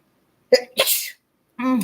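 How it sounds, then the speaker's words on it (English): A woman sneezes once, a short sharp burst close to the microphone after a quick intake of breath, followed by a brief bit of her speech. "has sneezed. Bless me."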